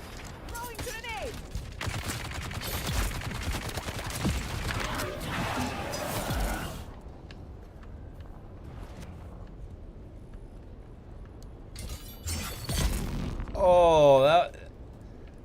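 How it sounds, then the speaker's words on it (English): Grenade thrown and bursting amid gunfire in a video game, with dense bursts of shooting and a blast under talking voices, trailing into quieter stretches and a final loud flurry. "Throwing grenade."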